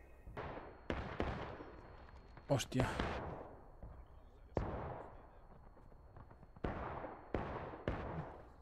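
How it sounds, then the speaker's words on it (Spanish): Gunfire in the video game War of Rights cracks out as sharp single shots, some near and some farther off, spread across the clip, with someone talking between them. "Los tiros, que cerca."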